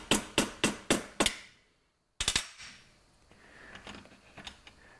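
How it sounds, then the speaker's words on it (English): Sharp metallic hammer taps bend spoke wire over into a 90-degree angle, five evenly spaced ringing strikes, a pause, then a few more quick blows followed by softer handling clinks, close and clear. "And I'll just tap that over to make a 90-degree bend."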